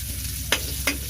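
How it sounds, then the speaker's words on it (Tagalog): Garlic, onion and spring onion sautéing in a pan, a constant sizzle broken by two sharp scraping stirs of the spatula, no speech. "nagisa na natin yung bawang sibuyas saka dahon"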